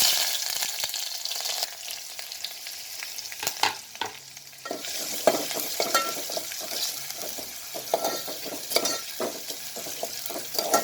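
Garlic and ginger fry in a little oil in a pot, a close, busy sizzle broken by repeated stirring scrapes and clatters, with no voices.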